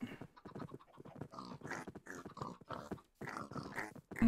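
Pigs, adults and babies, in the Minecraft video game: a series of short grunts and snorts in quick irregular bursts, fairly close and moderately quiet, with no talk.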